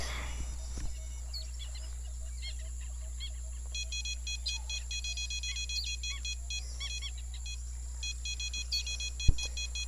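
A fishing rod bite alarm beeps in quick repeated electronic trains on a Congo river bank, fairly faint over steady low hum and background insect and bird chatter, with one sharp knock near the end.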